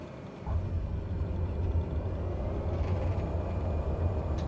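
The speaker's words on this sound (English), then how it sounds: "Reverse thrust." Cessna Grand Caravan 208 turboprop in Microsoft Flight Simulator applying reverse thrust on the landing rollout: a loud, steady, low engine roar with broadband rumble that holds throughout without a break.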